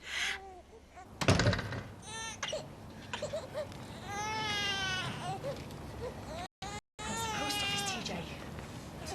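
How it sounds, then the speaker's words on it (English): Newborn baby crying at night in a house, heard two doors down: wavering high wails and whimpers recurring over several seconds, fairly faint, mixed with a door sound and background noise. "new baby crying 2 doors down"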